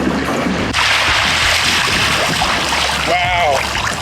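Torqeedo 1103 electric outboard motor pushing a kayak at full throttle, a loud continuous rush of motor whine and water spray up close, with a brief excited voice near the end.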